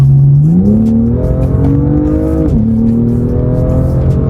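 A 2018 BMW M2 accelerates hard on the road, its engine loud and close, climbing steadily through the revs with a brief drop at a gear change before pulling on.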